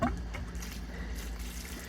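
Water flowing through a plumbing pipe after a valve is opened: a continuous low rushing and trickling with a rumbling bottom, moderately loud and steady, no speech.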